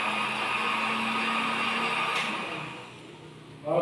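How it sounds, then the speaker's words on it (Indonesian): A kitchen blender whirring steadily at speed, loud and close, then winding down and fading after about three seconds, with a short sharp sound at the end. "start the blender by pressing the speed button"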